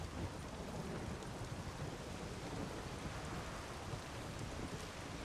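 Steady heavy rain with low thunder rumbling in a storm in the video game The Witcher 3, a dense continuous hiss at moderate loudness with no voices.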